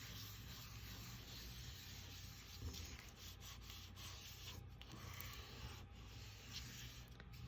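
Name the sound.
rubbing folded painted paper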